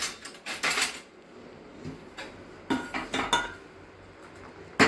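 A spoon stirring bhajiya batter in a metal bowl, giving repeated close clinks and scrapes in uneven bursts over a steady low background hiss.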